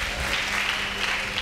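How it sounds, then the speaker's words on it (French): A church congregation applauds with a steady, dense wash of clapping that holds at full strength throughout the short burst. "Est-ce qu'on peut acclamer très fort?"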